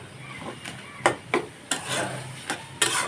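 Red amaranth greens are stirred in a pan, giving a handful of scraping, rubbing strokes with soft sizzle between them, close and irregular.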